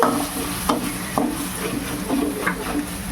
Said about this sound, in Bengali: এবার তেলটা মশলার সাথে ভালো করে মিশিয়ে দিচ্ছি